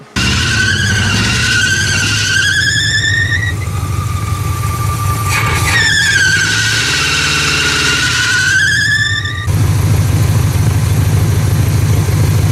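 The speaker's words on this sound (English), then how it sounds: "this motor doesn't even sound idling right" A car engine idles with a low, uneven rumble, while high rising squeals sweep over it twice, and the engine note grows rougher near the end.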